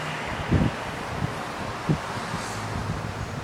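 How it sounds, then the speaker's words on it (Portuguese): Strong wind blows over water, a steady broadband rush with a few low gusty buffets against the microphone, constant and fairly close with no voices. "É só o vento vir forte e levanta a água"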